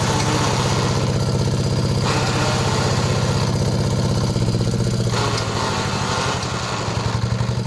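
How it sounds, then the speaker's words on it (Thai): A small single-cylinder Yanmar walk-behind tractor engine roars loudly and steadily, close by, its pitch shifting as it revs and settles. "เอาเร่งเครื่องครับเร่งเครื่องครับ"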